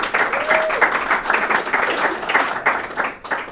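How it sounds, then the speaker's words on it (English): Audience applause at a WCS storytelling event, lively close clapping from a room of listeners in a steady patter, with a brief whistle-like tone early on. "I think they deserve a round of applause"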